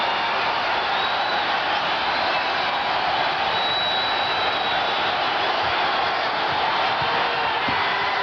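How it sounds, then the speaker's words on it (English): A large basketball arena crowd at the 1998 slam dunk contest roars steadily and loudly after a Michael Jordan dunk, a dense unbroken wash of cheering voices. "the crowd lets you know what they think of it"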